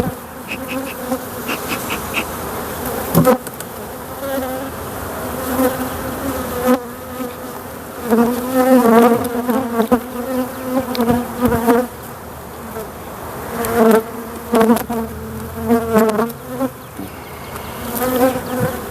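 Honeybees buzzing loudly and continuously around an open hive during an inspection, a dense droning swarm close by with shifting pitch as bees fly past.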